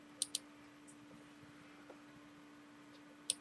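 Computer mouse clicks sound during CNC software work: a quick double click near the start, then a single click near the end, crisp and close over a quiet room with a faint steady hum.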